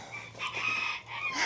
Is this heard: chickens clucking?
yes